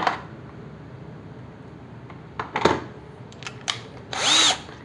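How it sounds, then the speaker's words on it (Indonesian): A Bosch GSR 1080 Li cordless drill with a 6 mm bit bores into wood, giving a few short bursts of whirring that build to a louder sustained run near the end, recorded up close with no talk. "Oke, kita uji lagi dengan bor diameter 6 mili."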